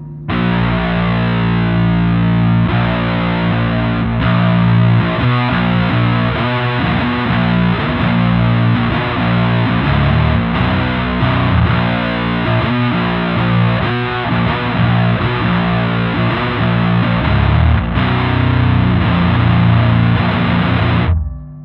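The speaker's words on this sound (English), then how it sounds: "amazing distortion sound, and it stacks really well with the other stuff." An electric guitar plays through thick fuzz distortion, loud saturated chords ringing and changing continuously, with no talking over it.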